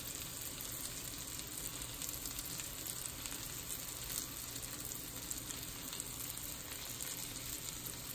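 Chicken of the woods mushrooms seasoned with Chinese five-spice fry in a skillet with a steady, dense crackling sizzle. The sound is close but fairly soft and stays even throughout, with no voices.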